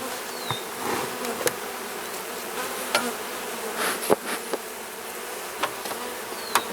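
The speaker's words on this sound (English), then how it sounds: "not an astonishing number of bees up here anyway, but they're definitely up in that second brood chamber" Honeybees buzzing steadily around an open second brood chamber of a hive outdoors, a soft continuous drone with occasional louder passes of individual bees flying close by, no voices.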